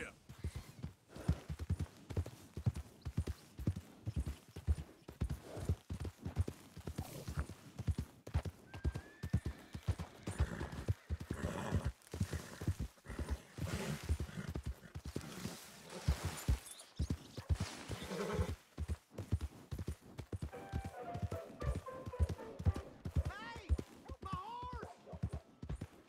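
A horse gallops in Red Dead Redemption II, rapid rhythmic hoofbeats pounding steadily and close throughout, with an occasional whinny and brief voices over the riding.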